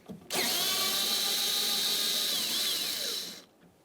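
A power tool removes an 11mm nut from the door of a 2003-2011 Mercury Grand Marquis during a power window motor and regulator swap, giving one steady, close, high-pitched whir of about three seconds that starts and stops abruptly.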